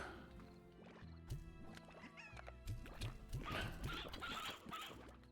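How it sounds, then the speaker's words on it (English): Chickens in the Slime Rancher video game cluck in short, bright bursts at close range, over a busy backdrop of game effects and sounds. "You're gonna make me wealthy, chickens. Come here. Let me feed you."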